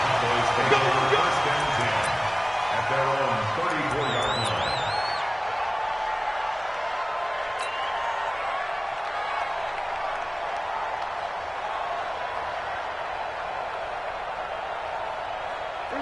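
A stadium crowd at an NFL game between the New York Giants and the Dallas Cowboys cheers as a steady, broad roar, while a commentator talks over the opening seconds and whistles sound faintly.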